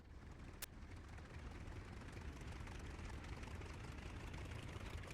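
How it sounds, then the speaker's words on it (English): Aircraft radial engine running steadily after a cold start with a compressed air starter, a dense, continuous low rumble with propeller buzz filling the whole span and one brief sharp click near the start. "once the engine starts and its RPM reaches 300"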